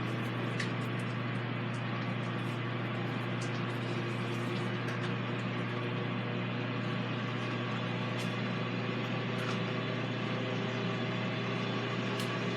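A Ninja Foodi XL grill preheats, its fan giving a steady low mechanical hum with a constant whir throughout, close and moderately loud, with no talk.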